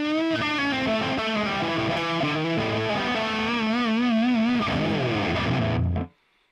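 Propellerhead Reason 8's lead amp setting carries a distorted electric guitar through a run of sustained notes with wide vibrato bends, loud and continuous, before cutting off abruptly.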